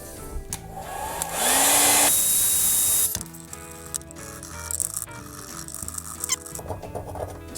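A heat blower roars loudly for a couple of seconds while softening old stickers on a Bullseye bike hub, then cuts off, leaving clicks, rattles and squeaky handling of the hub.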